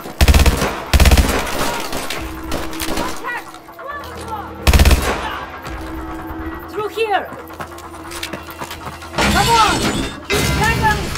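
Gunfire and shattering glass in the Call of Duty: Advanced Warfare campaign mission Manhunt, with loud bursts of shots, cracking breakage and explosive thumps, then shouted voices over the noise.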